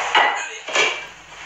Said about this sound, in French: On va d'abord mettre dans la casserole le lait à chauffer.